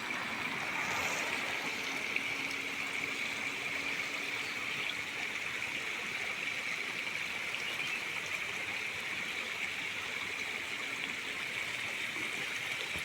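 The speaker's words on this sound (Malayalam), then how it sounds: "ഈ പാടത്ത് നിന്ന് വരുന്ന വെള്ളമാണ് കേട്ടോ ഈ പുഴയിലേക്ക് പോകുന്നത്" Water flowing from a paddy field into a river trickles steadily in a continuous gentle rush, with a faint high hum of insects over it and no talking.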